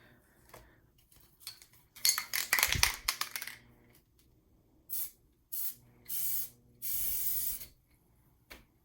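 Short bursts of spray adhesive hiss from a can onto a faux linen placemat being prepared for sublimation, four or five quick close sprays separated by pauses, with some handling clatter before them.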